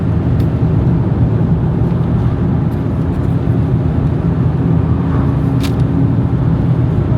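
Steady, loud low-pitched engine drone and road rumble from inside a moving Ford Fiesta Mk2, continuous and unchanging, with a couple of brief faint clicks and no talk.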